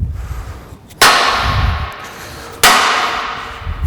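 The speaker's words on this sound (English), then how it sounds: "we'll just grab our mallet, make sure we hit it down again" Two sharp, loud mallet strikes land about a second and a half apart, driving a steel lug into place on long-span workbench shelving, each hit ringing briefly before fading.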